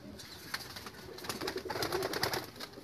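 Loft pigeons keep up a low, throaty cooing, the murmur swelling toward the end amid scattered flutters and rustles, close by and moderately loud.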